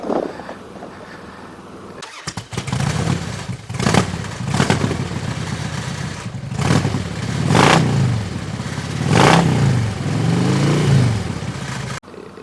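Motorcycle engine on a road ride after dinner with a passenger aboard, a loud steady drone that rises and falls through several gear changes and throttle surges, heard alone without talk.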